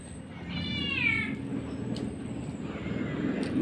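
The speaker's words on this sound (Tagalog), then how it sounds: "Naghihingi na yung pusa ng pagkain." A house cat meows while begging for food at breakfast, one drawn-out wavering meow near the start over a constant low background rumble, then quieter indistinct sounds.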